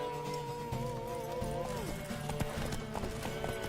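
Horse hooves clip-clop along in The Witcher 3, a steady, fairly near trot under game music and scattered ambient noise, with brief voices heard alongside.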